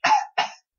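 Two quick, close coughs in a row, sharp and short, with nothing else around them.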